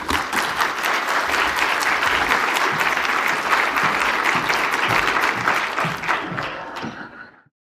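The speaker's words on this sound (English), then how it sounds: "Please give our panelists a round of applause." Dense, steady audience applause for the panelists at a children's health discussion event in Canada, sustained at full volume for about six seconds before tapering off at the end, with no talking over it.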